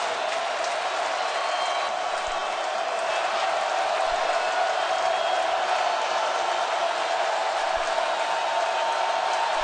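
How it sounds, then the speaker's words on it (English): A stadium crowd roars at a 2009 Clemson home football game against TCU in Death Valley, a steady, broad wash of cheering that holds at the same level throughout, fairly distant and unbroken. "here comes the crowd again here in Death Valley"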